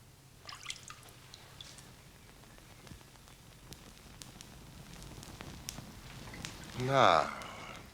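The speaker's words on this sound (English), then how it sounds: "And Constable, will you sprinkle it with water?" Water sprinkled over burning straw in a staged fire scene gives scattered drips and soft crackles, then a brief louder hissing spatter near the end.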